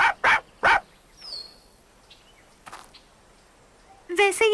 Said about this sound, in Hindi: अच्छा होगा अगर तुम इस कुत्ते को शांत कर दो।